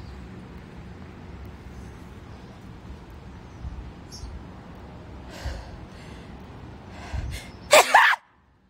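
A single sharp human sneeze bursts out near the end, loud and close, after a quiet stretch of low background rumble with a few small breaths or sniffs.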